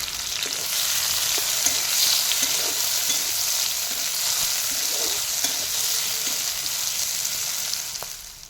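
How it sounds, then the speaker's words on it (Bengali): Tomato and green chillies fry in oil in a kadai for rohu fish kalia, a dense, even sizzle held at steady loudness with faint intermittent stirring taps before it tails off. "এবার সেই কড়াইতে আরও খানিকটা তেল দিয়ে টমেটো আর কাঁচা লঙ্কাটি প্রথমে দিয়ে দিলাম"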